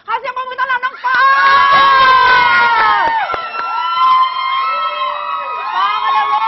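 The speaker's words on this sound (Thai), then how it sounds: "ขอเสียงปรบมือต้อนรับน้องป" Studio audience at a Thai reality singing competition (AF8, Academy Fantasia) cheering and shouting loudly as a contestant is welcomed, a dense, sustained roar of excited voices with high-pitched screams that stays strong throughout.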